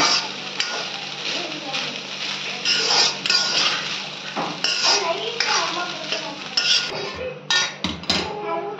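A spoon stirs and scrapes potato rice around a metal pan, making repeated clinks and scrapes over a light sizzle, with a voice talking at times.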